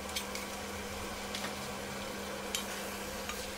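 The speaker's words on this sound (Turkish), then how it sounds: "yaklaşık bir yemek kaşığı kadar domates salçasını ekleyip devam kavuruyorum" Tomato paste and tomatoes sauté in a pan with a steady, soft sizzle and a low hum. A few faint scraping stirs break through, with no voices.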